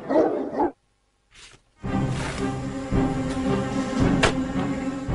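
Roman war dogs bark loudly and continuously through dense background noise, after a short opening sound and a brief near-silent gap.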